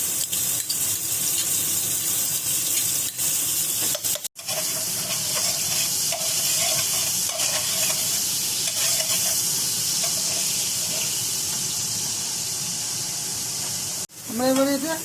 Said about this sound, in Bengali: আমরা অল্প পরিমাণে তেল এখানে দিয়ে দিয়েছি, আর 2 চামচ মতো আমরা এখানে মাখন দিয়ে নেব।